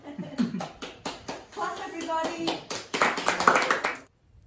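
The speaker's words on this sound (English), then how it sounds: "Clap, everybody" Handclaps at a school graduation ceremony, crisp and fairly close, falling into rhythmic bursts and swelling into denser applause before cutting off abruptly, with voices mixed in.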